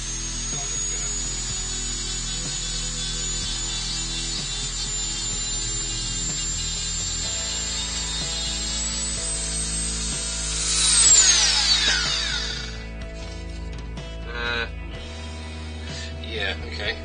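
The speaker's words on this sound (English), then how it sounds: "I've got the Dremel with a tip on. The lathe's running pretty slow." A Dremel rotary tool with a tip works a sycamore platter turning slowly on a woodturning lathe, giving a steady whine and drone with a brief louder scraping burst near the end, then quieter clicks.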